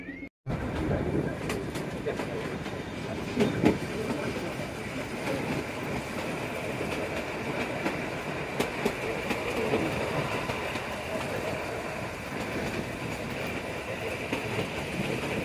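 Shimla-Kalka mountain train running through the Himalayas of northern India, with a steady rumbling, rattling roll of carriages over the track and occasional clanks, close and continuous.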